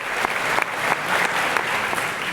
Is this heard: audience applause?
yes